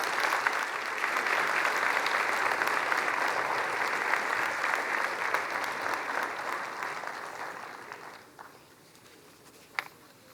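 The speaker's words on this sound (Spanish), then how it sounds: "Fuerte el aplauso." An audience applauds loudly and steadily as political candidates walk onto a stage at a public event. The clapping fades after about eight seconds, leaving scattered claps and a sharp knock.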